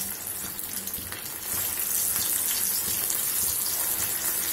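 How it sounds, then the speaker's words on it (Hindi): Corn cutlets deep frying in very hot oil, a dense steady hiss and crackle that swells louder partway through as more pieces go in, close and continuous with no talking. "हमें इसे तेज गरम ऑयल में ही फ्राई करना है"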